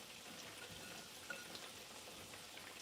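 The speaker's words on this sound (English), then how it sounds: "Those are starting to make a nice sizzling sound, which tells me they're probably almost cooked." Zucchini frying in a pan gives off a faint, steady, hissing sizzle with a few soft pops, and nobody talks.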